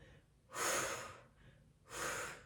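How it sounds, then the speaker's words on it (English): Two deep, audible breaths, each a drawn-out airy exhale, taken slowly during a seated chair workout, close and alone with quiet gaps between. "Inhale, exhale, inhale, exhale."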